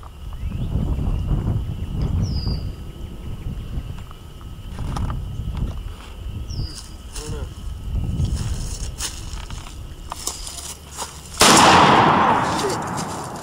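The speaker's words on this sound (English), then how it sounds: "You cannot be shooting guns without ear protection" A single 12-gauge shotgun blast goes off close and very loud near the end, ringing out sharply after a stretch of outdoor background noise and faint voices.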